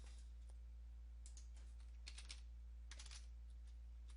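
Bursts of quick keystrokes clatter on a computer keyboard while commands are typed, soft and close, separated by short pauses against a low steady hum.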